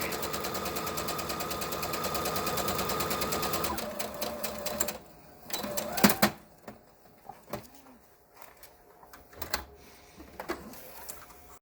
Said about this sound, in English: Sew along the edges of the mask with the ties sandwiched in between the 2 pieces of fabric.